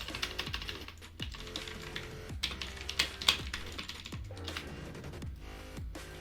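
Quick clattering keystrokes on a computer keyboard while typing in Brawl Stars chat, close-up taps in uneven bursts over a low background of game sound.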